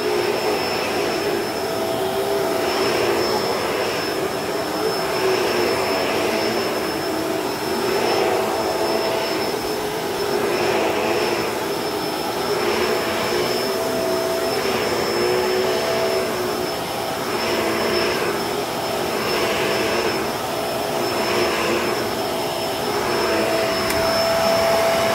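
A Bissell CleanView Allergen vacuum cleaner runs continuously on a rug, a loud, close whine with a gentle rhythmic pulsing in its pitch, alone without speech.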